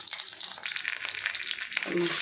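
Vegetables frying in a pan give a short, close crackling sizzle, with a faint voice entering at the very end.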